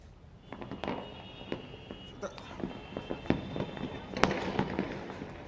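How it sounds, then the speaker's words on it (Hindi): Fireworks and firecrackers for Makar Sankranti in Jaipur pop and crackle in a dense, irregular stream of sharp bangs, some loud and close, over a continuous hiss of distant bursts. "लेकिन आज जो आतिशबाजी हो रही है"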